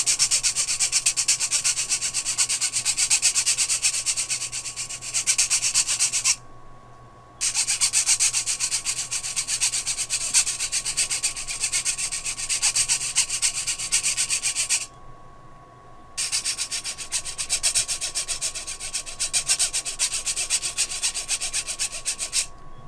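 Rhythmic rasping scrape of a Stabilo watercolor pencil being sharpened, steady and close, with two brief pauses between bursts.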